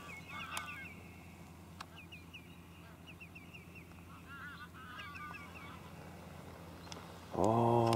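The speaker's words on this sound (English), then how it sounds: "Oh, the geese are coming in now, look at this." Geese honk repeatedly as they fly in over the estuary shallows between Newborough and Malltraeth, a scattered series of calls at moderate distance, with a louder, closer honking burst near the end over steady outdoor background noise.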